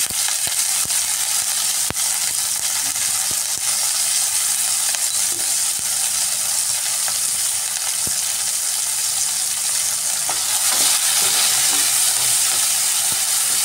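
Whole and sliced onions with salt sizzle steadily in hot oil in a pan for an omelette curry, a dense continuous frying hiss with faint occasional stirring clicks throughout, fairly loud and with no talk.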